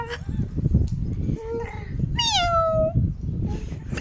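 A cat meows several times nearby, the longest a drawn-out wavering cry, with soft background noise and faint voices.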